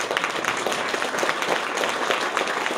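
An audience claps to welcome actress Corinne Marchand to the podium at the inauguration of the Jean Delannoy museum, steady applause filling the whole moment at a fairly loud, even level.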